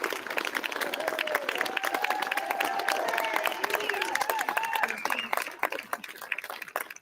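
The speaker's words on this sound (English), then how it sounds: "Let's give the boys and girls a great big hand of applause." An audience claps steadily at a sixth grade recognition ceremony with scattered voices and cheers mixed in, the applause thinning out toward the end.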